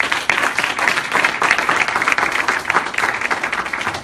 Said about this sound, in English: Let's give these gentlemen a round of applause, please.